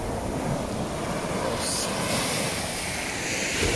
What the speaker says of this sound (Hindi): कितनी बड़ी बड़ी टाइड्स आ रही है यार यहाँ पे.